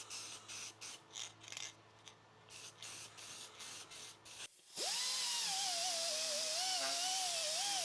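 Rubber grease sprayed from an aerosol can onto suspension bushings during a torsion bar and rear anti-roll bar upgrade: a run of short, rhythmic bursts close by, then one long, steady hiss that keeps going.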